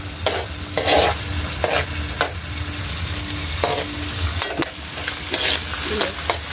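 Chopsuey with tomato being stirred in a sizzling frying pan, a spatula scraping and clattering in repeated strokes over a constant hiss of frying, close and fairly loud, with no talk.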